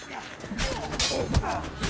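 An enemy shield shatters in The Witcher 3: Blood and Wine combat, a sharp crashing break amid a dense wash of game music, clashing effects and clatter, with someone talking over it.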